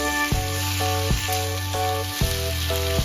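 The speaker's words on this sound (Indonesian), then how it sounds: "Kemudian kita masukin buncisnya. Aduk semuanya sampai merata." Green beans and shrimp stir-frying in a pan give off a steady sizzle for a few seconds, with a repeating tonal melody playing over it and no talk.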